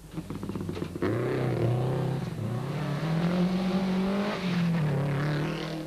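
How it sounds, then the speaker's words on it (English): A Subaru Impreza rally car with a misfiring engine revs hard at the Tzaneen Rally, a loud, close, rising and falling engine roar with no talking. "Visser Du Plessis and Christoph Snyders are battling with a misfiring engine in their Metmeister Sasol Delight Subaru Impreza"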